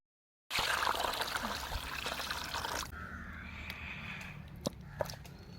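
Water pouring steadily over cut country rooster pieces for rinsing, a full gushing stream that suddenly thins to a softer trickle with a few faint clinks near the end.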